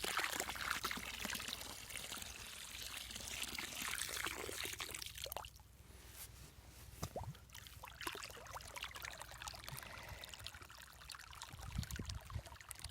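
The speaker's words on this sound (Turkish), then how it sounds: "Bu yüzden bol miktarda can suyu veriyoruz ki ilk etaptaki o boşlukları biz alalım ve çekme işlemi gerçekleşsin." Water pours onto a newly planted walnut sapling, a faint, uneven splashing and trickling that swells and fades in bursts over about thirteen seconds outdoors.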